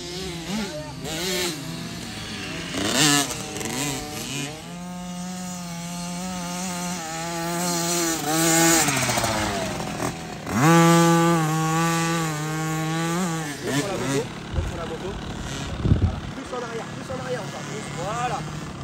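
Motocross motorcycles ride through sand, their engines revving and rising in pitch in long sustained sweeps, one pass after another, fairly loud under someone talking.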